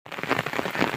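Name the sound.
heavy rain falling on an umbrella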